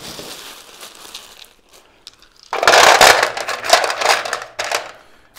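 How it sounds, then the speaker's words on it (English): Stones tipped into the bottom of a container for a natural foam-free spring flower arrangement, a loud rattling clatter that starts suddenly midway and continues in a burst of crunching knocks, preceded by quieter handling noise. "So we'll put our stones in the bottom."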